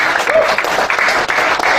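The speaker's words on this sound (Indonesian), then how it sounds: "Tepuk tangan dulu buat." A seated audience at a business presentation breaks into brief, loud applause, a dense burst of clapping close by that lasts under two seconds.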